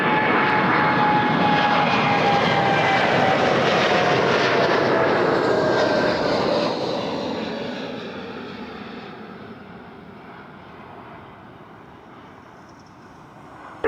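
A Boeing 787-9 jet roars past at Toronto Pearson airport, loud at first with a steady engine whine and rumble that slowly fades as the aircraft moves away, with no voices over it.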